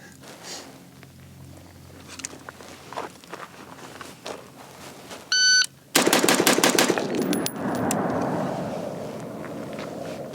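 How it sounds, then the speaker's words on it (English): Five rapid rifle shots from a K9 12.5-inch rifle crack out in a tight, fast burst on a shooting range, preceded by quiet shuffling and a brief tone, followed by a lingering rumble. "What's the time for the 5 rounds that you fired?"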